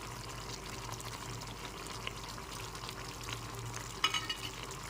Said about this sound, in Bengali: দু মিনিট ফুটিয়ে নিচ্ছি